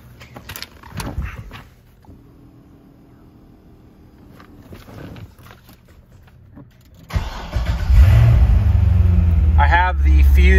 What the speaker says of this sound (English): We'll start the car for a second.